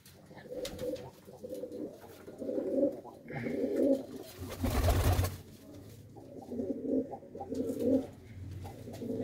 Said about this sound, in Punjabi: ਹੁਣ ਆਪਣੇ ਕੋਲ ਜ਼ਿਆਦਾ ਖੱਟੀਆਂ ਦੇ ਆ ਕਬੂਤਰ ਹੈ?